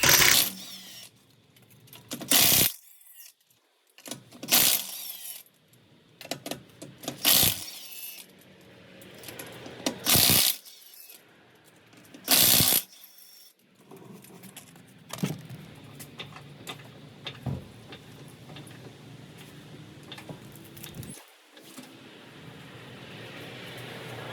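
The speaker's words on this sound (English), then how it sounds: "I've got the trusty Milwaukee 1/2-inch impact to get this done" Milwaukee 1/2-inch impact wrench removing lug nuts from a Toyota or Lexus wheel: several short, loud hammering bursts in the first half, then quieter clinks and rattles of nuts and tools, with no talk.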